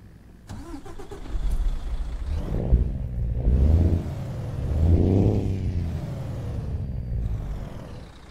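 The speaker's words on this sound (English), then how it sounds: "let's jump on the outside and start her up and see what it sounds like" A Freightliner Inspiration truck engine starts up in the Euro Truck Simulator 2 game, cranking briefly before catching and settling into a loud, deep rumbling idle with a couple of revving swells, no talking over it.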